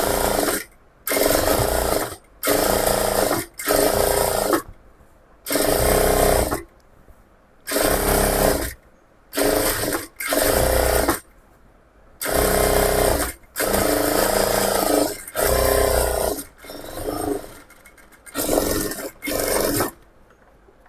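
Sewing machine running in repeated short bursts of stitching along a quarter-inch seam edge of a layer-cut top, each run lasting about one to two seconds with brief pauses between, loud and close.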